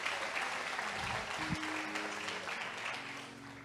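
A church congregation applauds, a broad wash of clapping at moderate distance, steady and slightly fading, with a brief tone and faint voices underneath.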